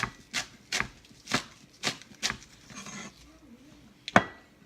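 A knife chops an onion on a cutting board in a kitchen, with a series of sharp, close, irregularly spaced cuts separated by short pauses and a brief scraping rub in between.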